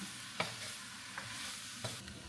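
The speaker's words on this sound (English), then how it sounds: "Vegetables been cooking for a few minutes now" Chopped vegetables cook in a pot over medium heat for crawfish stew, giving a soft, steady sizzle broken by a few sharp scrapes of stirring, heard up close with no talking.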